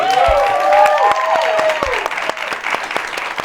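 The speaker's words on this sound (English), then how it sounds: "clap for Robin Ruth Simmons" Audience applause rises and carries on steadily, with a voice speaking over the clapping near the start.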